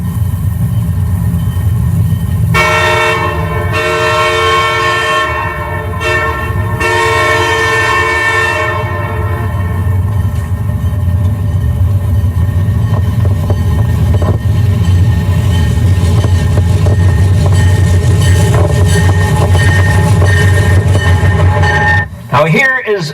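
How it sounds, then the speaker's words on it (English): CPR diesel locomotive departing Vancouver on the evening train to Montreal sounds a chorded air horn in a few long blasts, loud and near, over a steady low rumble of the engine and rolling cars. "Here is a CPR diesel going out of Vancouver with the 7:30, 7:45 train in the evening, going right through to Montreal."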